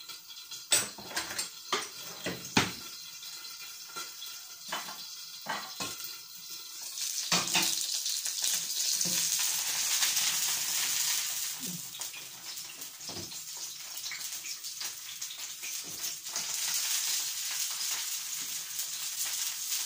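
Yeast bliny batter made with milk, water, sugar, salt, egg and flour sizzles in a pan, a steady hiss swelling midway, broken by clinks and scrapes of utensils against cookware.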